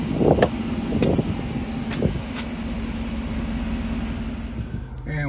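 A 1991 Mercedes 500SL engine idling at night, a steady low hum close by with a few clicks and knocks near the start, while a voice speaks over it.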